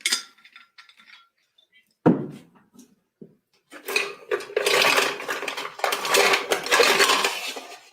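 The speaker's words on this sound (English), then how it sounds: "And now we're going to add ice to our shaker tin." Ice cubes go into a metal cocktail shaker tin, a sharp clink and thud at first, then a long loud rattle and clatter of cubes tumbling against metal, with no talking.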